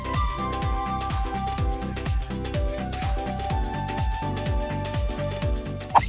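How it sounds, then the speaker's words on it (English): A golden poison frog calls in a fast, regular series of sharp pulsed chirps, repeating steadily like a ringing phone bell, fairly close and alone over a faint background hum. "This is the call of a golden poison frog, which can annoy every other animal for miles around."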